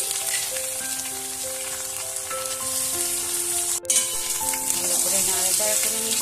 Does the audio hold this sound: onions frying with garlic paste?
yes